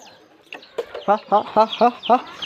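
Backyard chickens cluck close by in a rapid series of about six sharp, rhythmic calls, loud against a quiet background.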